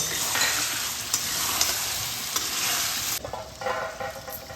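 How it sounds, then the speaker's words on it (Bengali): Chicken with chopped green chillies, salt and dry spice paste sautéing in a pan, with a steady loud sizzle and scraping stir strokes throughout, the hiss easing slightly near the end. "কিছু শুকনো মশলা পেস্ট দিয়ে খুব ভালোভাবে কষিয়ে নেব"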